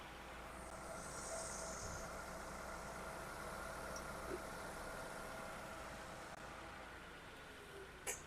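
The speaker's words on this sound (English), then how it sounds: "Fans back off, compressor back on." A 2001 Mazda Tribute idles under the hood while its AC compressor and radiator fans cycle, a steady low mechanical hum and airy whir that stays faint and even, with a small click near the end.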